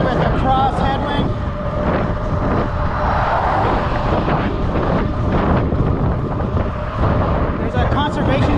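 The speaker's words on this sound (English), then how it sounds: "It's really windy." Strong wind buffets the microphone while cycling on an electric fat bike into a cross headwind, a loud continuous roar and rumble that fills the whole clip, with a voice faintly under it.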